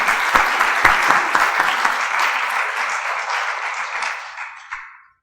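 Audience applause at a talk with Stefanie Spin, a loud burst of dense clapping that swells, holds steadily and then tapers off to silence over about five seconds.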